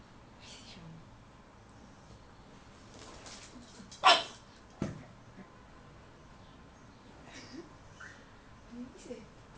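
A dog facing its own reflection in a mirror gives faint whimpers and a couple of sharp yips near the middle, quiet and close, while a person talks softly.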